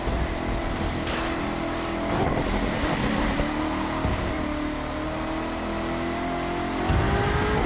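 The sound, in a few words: Chevrolet Corvette driving in snow, The Crew 2 video game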